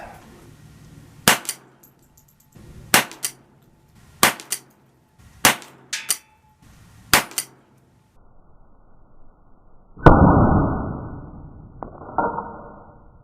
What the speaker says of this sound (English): Let's see how they shoot.